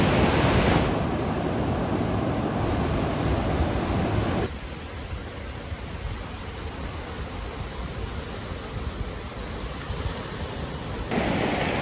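Ocean surf rolls onto Torrey Pines beach in La Jolla, California, at sunset as a steady, loud roar of wash and wind rumble with no voices.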